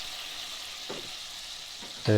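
Steady, close sizzling of white wine hitting a hot pan after roasting meat, a bright hiss with a couple of faint clinks and a louder sputter at the end.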